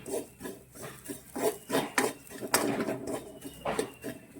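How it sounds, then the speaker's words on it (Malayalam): Coconut roasting in a pan: a spatula scrapes and stirs in quick, uneven strokes, close and fairly loud, with no talking. "തേങ്ങ നമുക്ക് ആദ്യം വറുത്തെടുക്കാം"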